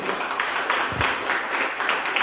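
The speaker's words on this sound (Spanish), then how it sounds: "creo que se merecen un fuerte aplauso" An audience at a literary event breaks into applause, a dense, even patter of many hands clapping without pause.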